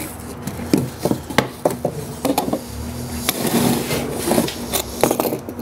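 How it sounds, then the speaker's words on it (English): A razor knife with an extendable blade saws through inch-thick material while bricking an evaporator arch, giving close, rough scraping strokes broken by sharp clicks and knocks. "Make sure you get a razor knife other than a utility knife, because you've got to cut through an inch of material"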